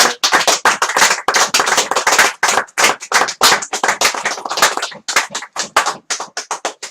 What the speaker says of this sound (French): on va quand même applaudir